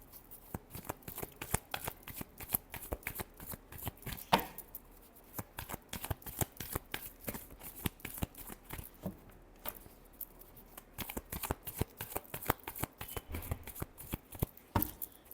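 Tarot cards being shuffled by hand, a steady run of quick riffling, flicking taps that keeps going at close range, with no one talking over it.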